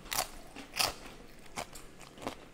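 Crunchy tacos topped with onions are bitten and chewed, four or five sharp crunches spaced about half a second apart, close up and fairly quiet with no talk.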